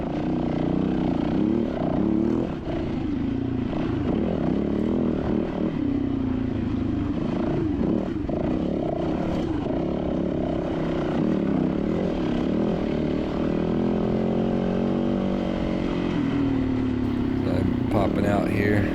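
A dirt motorcycle's engine drones steadily as a seated rider picks through rocks during a hare and hound race, the motor revving and straining continuously at a distance while someone talks over it.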